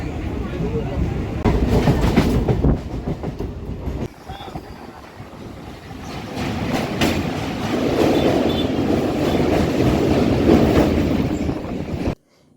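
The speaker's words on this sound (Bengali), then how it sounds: "এখন টিকিয়াপাড়া স্টেশন ছেড়ে যাচ্ছে, পরবর্তী স্টেশন হচ্ছে দাসনগর।" Local train on the Howrah to Amta line pulling out of a station, a steady rumble and rolling wheel clatter heard from inside a carriage, growing fuller as it gathers speed, with faint background voices.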